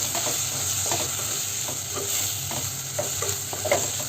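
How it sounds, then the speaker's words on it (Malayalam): Fried snake gourd is stirred into a dry prawn curry in a hot pan, with repeated scraping strokes of the spoon over a continuous sizzle, close and clear with no talking. "അതും കൂടി ചേർത്ത് നന്നായിട്ടൊന്ന് ഇളക്കിയെടുക്കാം"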